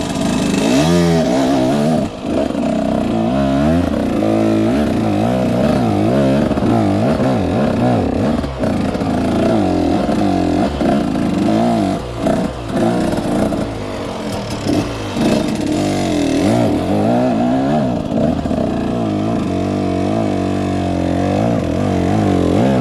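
Enduro motorcycle engine braking on an uphill with the clutch, the engine burbling and revving unevenly in rough, fluctuating bursts, loud and close throughout with no talk.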